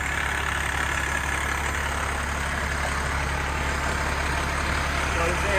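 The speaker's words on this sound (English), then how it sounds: "we're also gonna put in high idle" A fire tower truck's engine runs at high idle, a steady loud low drone with constant hum and no change in pitch, continuous throughout with no talk.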